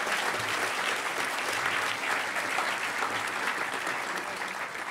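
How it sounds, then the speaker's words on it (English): An audience at a hacker conference closing ceremony claps in a full, continuous wave that holds steady for about five seconds without talk. "So everybody, a huge round of applause for Adam."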